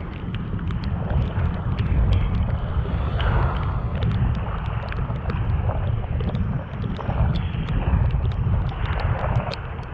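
Wind gusts blow steadily across a fishing spot during rain, a constant loud rushing buffet on the microphone with low rumbling and scattered sharp taps and clicks, with no voices.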